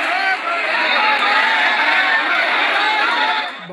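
Dense crowd of protesting students at an evening sit-in demonstration over a teacher recruitment exam, a steady wash of overlapping chatter and shouting voices, fairly close and continuous throughout.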